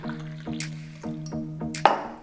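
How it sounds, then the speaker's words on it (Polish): AeroPress coffee being poured into a cup, heard as a series of close, resonant liquid drips and plinks at an uneven rhythm, ending in a brighter splash, with no voices present. "przelać do filiżanki"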